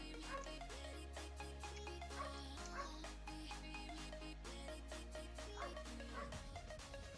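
A dog barks in Roblox, giving repeated yips and barks over steady game music, with no talk.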